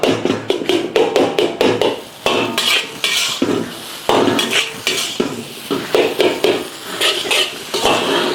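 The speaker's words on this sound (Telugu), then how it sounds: "మామూలుగా అయితే నూడిల్స్ని ఈ విధంగా కొడతాం అన్నమాట" Noodles being tossed and mixed in a pan with metal utensils, rapid clanking and scraping taps in repeated bursts, loud and close, with brief pauses.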